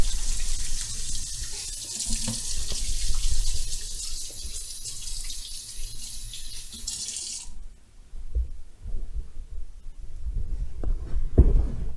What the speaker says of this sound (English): Let me quickly wash my hands.